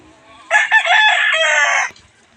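A rooster crows loudly and close by in one long call of about a second and a half, with faint clucking around it.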